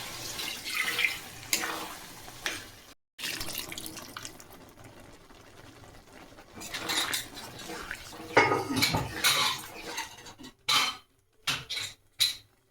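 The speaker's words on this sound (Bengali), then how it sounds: "মটরটা আগে থেকে সিদ্ধ করে রেখেছিলাম, এবার মশলার মধ্যে দিয়ে দিচ্ছি। এটাকে একসঙ্গে মিশিয়ে নেবো ভালো করে।" Boiled peas are stirred into spices in a pan for ghugni, a Bengali curry, with close metallic clatters and scraping in uneven bursts, brief pauses and a few sharp knocks at the end.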